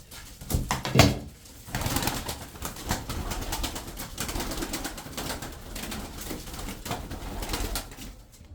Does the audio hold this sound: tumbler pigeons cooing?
yes